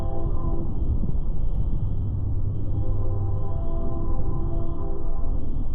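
A train at 5 a.m. near a rural crossing on the South Coast Rail line, heard from far off as a steady low rumble with faint tonal drones and no talk.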